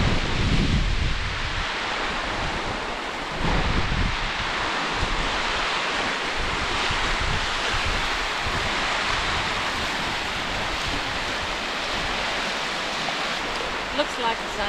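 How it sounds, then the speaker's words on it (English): Fast water rushes through a river canyon beneath a bridge at Siikakoski rapids on the Ruunaa wilderness hike in Finland, a loud, steady broadband roar mixed with wind buffeting the microphone. "Standing on this bridge, you realize how fast the water runs through this canyon."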